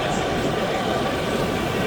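The Kalka-Shimla heritage train runs along a mountain line built up on stone-walled track above a steep drop. It makes a steady, close, even rumble of wheels and carriage that holds without a break.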